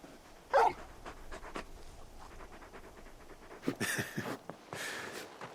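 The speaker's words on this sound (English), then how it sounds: "You're just a big puppy, aren't you? A very big puppy." A big dog in the Final Fantasy XVI video game pants in short breathy bursts near the start, followed by quieter rustling and breathy sounds without talk.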